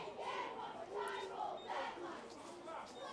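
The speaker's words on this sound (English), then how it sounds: "As the cheerleaders are cheering." High school cheerleaders chant in unison at a Friday football game, rhythmic shouted cheers carried over a distant crowd murmur, fairly faint and heard from across the field.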